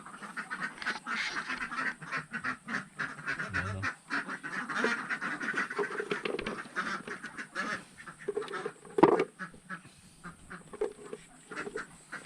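Domestic ducks on a rural farm quack repeatedly in scattered bursts, a mix of near and farther calls over a steady outdoor background, with one louder call near the end.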